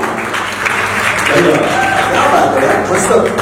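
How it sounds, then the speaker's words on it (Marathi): An audience claps loudly and steadily for Zee Marathi at the Mango Festival 2025 event, a dense wash of applause running under speech throughout. "एकदा झी मराठीसाठी जोरदार टाळ्या वाजवा"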